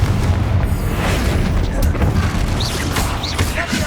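A Bombarda spell blast in Hogwarts Legacy, a loud booming explosion with rumbling debris, with a voice speaking over it.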